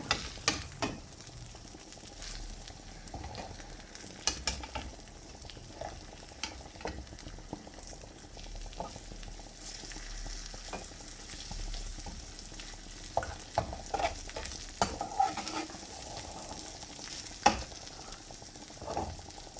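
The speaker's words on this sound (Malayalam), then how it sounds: "ഈ ഒരു ഭാഗം നല്ലതുപോലെ പൊരിഞ്ഞ് വന്നിട്ടുണ്ട് ഈ മറുഭാഗവും കൂടി നല്ലതുപോലെ പൊരിയട്ടെ" Manthal fish fries in oil in a pan over a low flame, giving a steady, close sizzle with frequent small pops and occasional spatters, and no voices.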